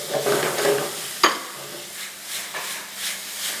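Tomatoes stirred into sautéed garlic, onions and peppers for şakşuka meze, with soft spoon scrapes and a gentle sizzle, one sharp clink of utensil on pan, then quieter intermittent stirring up close.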